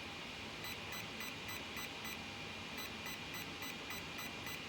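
A Spektrum Firma ESC in an Arrma Outcast 8S 1/5-scale RC car beeps during programming, two runs of short, evenly spaced high beeps sounding faintly over steady background hiss, with no talk.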